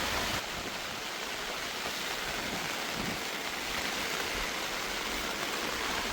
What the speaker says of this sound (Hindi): बहुत तेज बारिश हो रहा है भाई, बहुत तेज